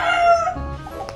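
A rooster on a gamefowl farm crows once, loud and close, the call trailing off quickly.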